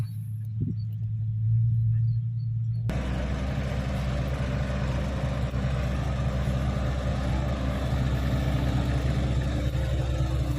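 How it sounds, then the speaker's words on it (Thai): An old digging excavator working a field after the rice harvest, scooping soil. A steady, close engine rumble drones continuously, preceded by a brief quieter stretch before the machine noise rises. "ตอนนี้กำลังทำการตักกับอยู่กับรถ ขุดคันเก่าคันเดิมนะครับ"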